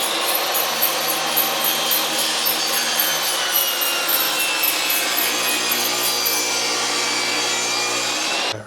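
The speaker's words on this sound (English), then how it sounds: "Now I'm just gonna rip another piece of trim the same width as this and overlay that" A saw rips a wooden trim piece lengthwise, producing a loud, continuous high-pitched whine with a harsh rasping bite that holds steady for several seconds before stopping abruptly.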